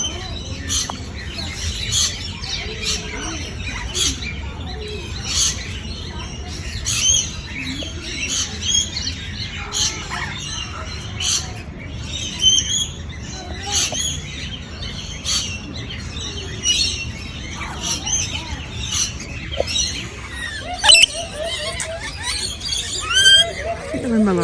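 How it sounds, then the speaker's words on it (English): Hungry birds, including a chicken, call and chirp with frequent sharp tweets and squawks close by, while a voice talks on and off among them. "The Malarkey are the hungriest birds here."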